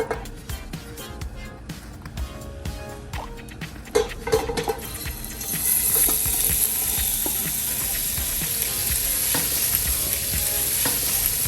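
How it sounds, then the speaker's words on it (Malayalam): Italian sausage fries in a little oil in a pan over medium flame, with clicking and scraping stirring at first, then a loud steady sizzle that rises and holds to the end. "ഇനി ഞാൻ ഈ സോസേജ് ഈ പാത്രത്തിലേക്ക് ആഡ് ചെയ്ത് കൊടുക്കാൻ പോവാണ്"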